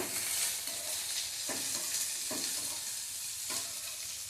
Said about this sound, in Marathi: किंचित मऊ झाला होईपर्यंत आपण हे परतणार आहोत